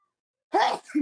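A single sharp sneeze breaks a short silence, followed right after by a brief voiced exhale.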